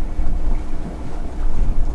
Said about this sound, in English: So we turned the engine on at 2 a.m.